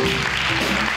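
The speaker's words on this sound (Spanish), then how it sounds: "Fort aplaudiment per a Núria Colomer" Audience at a Christmas concert by a town jazz band clapping for the keyboardist, a steady dense wash of applause filling the whole moment, close and even, with no voice.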